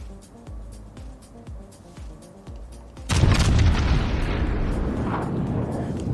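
Warship main guns in World of Warships Legends: a run of rhythmic booming shots, then a heavy close salvo that rumbles and decays over several seconds.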